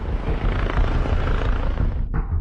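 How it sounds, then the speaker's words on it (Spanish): A police helicopter on a search flies overhead, a loud, steady broadband rotor roar with a dense chopping rumble that briefly drops in the upper range before continuing. "Se habilita un helicóptero de la policía para ayudar en la búsqueda."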